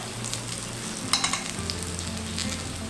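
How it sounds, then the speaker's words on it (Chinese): Pickled mustard greens stir-fry with king oyster and shiitake mushrooms in a hot pan, a steady sizzle broken by a few scraping spatula strokes, close and fairly loud with no talking. "我们就把酸菜放进来炒香。"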